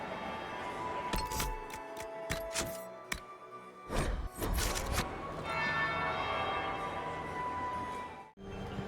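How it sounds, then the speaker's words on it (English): In the Dragon Age Inquisition video game, a bell tolls several times in loud, ringing strikes. Long metallic overtones hang between the hits, followed by a sustained resonant hum that cuts off abruptly near the end. "That would be the second bell"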